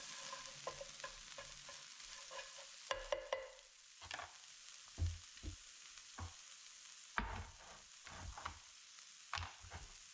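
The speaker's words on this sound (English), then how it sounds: "The flavor is intense, it's magnifying, it's cooking in the pan." Garlic- and black-pepper-seasoned tortilla filling cooks in a pan, giving a soft steady sizzle broken by intermittent scraping and stirring knocks, fairly quiet and with no voices.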